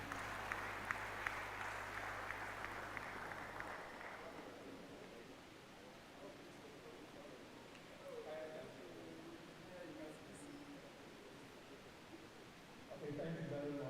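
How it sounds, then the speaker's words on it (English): Audience at an engineering faculty conference applauding a speaker, a faint, steady wash of clapping for about four seconds, then quieter room noise with a voice starting to speak. "A hand of applause as he comes."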